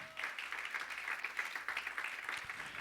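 A church congregation claps together in a steady, dense applause that holds evenly for a few seconds at moderate loudness, with faint voices mixed in.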